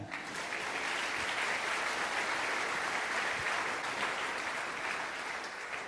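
A church congregation breaks into loud, sustained applause during a worship service, a dense wash of clapping from many hands that stays steady and fills the room without a pause.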